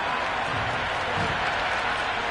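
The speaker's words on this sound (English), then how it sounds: "Will you listen to that crowd?" A large cricket crowd at a Punjab vs Gujarat match roars and applauds in a dense, continuous wash of cheering and clapping, loud and sustained throughout.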